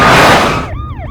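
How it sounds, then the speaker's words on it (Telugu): An ambulance siren on the road cuts in after a burst of loud noise, giving a short wailing tone that rises and falls in pitch. "నడి రోడ్ లో అంబులెన్స్ ఏర్పడంతో"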